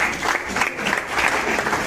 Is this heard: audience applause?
yes